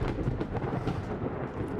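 Thunder from in-game lightning in a desert cave area of Spellbound Caves II, a low rolling rumble that rises and falls in uneven surges for the whole stretch with no voices.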